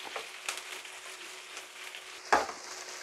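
Fresh red beef frying in a pan as a spicy pizza topping, giving a steady close sizzle with a few stirring scrapes and one sharper clatter near the end.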